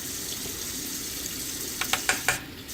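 Hot water runs steadily from a kitchen faucet while a jar is being cleaned. A few short knocks and clinks come near the end. No voices.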